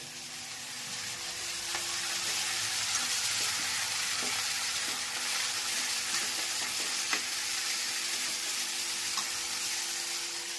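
Radish greens sizzle in hot oil in a pan as a tempering of mustard seeds, cumin and fenugreek powder, a steady close-up frying hiss with faint crackles and the occasional stir.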